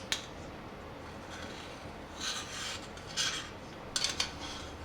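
Utensil scraping and rubbing against the bottom of a pan of cooking quinoa, a few soft grating strokes close by, faint over a steady background hiss.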